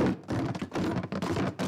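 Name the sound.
box of numbered wooden blocks being shaken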